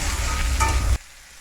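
Potatoes poured into hot oil seasoned with panch phoron hiss and sizzle loudly for about a second. The frying then cuts off abruptly to a faint, quiet background.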